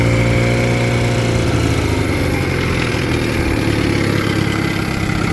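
A 1976 Johnson 6hp outboard engine idling, a steady, loud mechanical putter with a fast regular firing rhythm, running close by without any talk.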